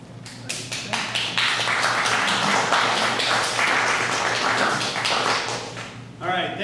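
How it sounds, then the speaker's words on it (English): A community audience at a legislative district candidate forum applauds after a speech, with dense, sustained clapping close by that tapers off near the end as a voice begins speaking. "thank you all for applauding"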